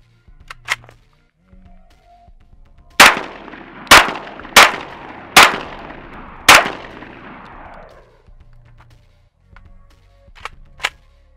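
A Saiga 12-gauge shotgun fires five rounds of Federal XM127 00 buckshot in quick succession into a coated AR500 Level III steel armor plate. Each blast is loud and sharp and trails off into ringing, with faint clicks before and after.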